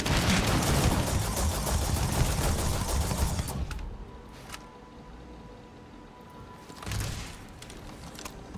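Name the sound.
gunfire from a big gun in video game Starfield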